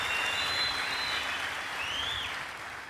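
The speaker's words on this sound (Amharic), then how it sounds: "አጨብጭቡላት" An audience applauds steadily throughout a church youth gathering, a dense even patter of clapping at moderate distance that eases slightly toward the end, with faint tones sliding above it.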